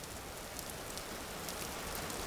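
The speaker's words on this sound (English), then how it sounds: "Sounds like it's going to rain. 9 days left. Well, it is raining." Rain falling in the video game Vintage Story, a steady, soft wash of rain on surfaces with scattered faint drop ticks, continuous and alone.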